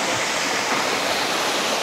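Catmon Falls pours in a dense, steady roar of rushing water, close and loud with no break across the short stretch.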